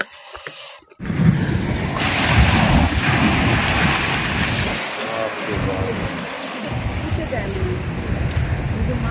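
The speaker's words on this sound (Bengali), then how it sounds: "বিশাল বিশাল ঢেউ" Big ocean waves roll in at a beach camp, a loud, continuous roar of surf with wind rushing across the microphone. A voice talks over it, and the roar eases briefly in two short gaps.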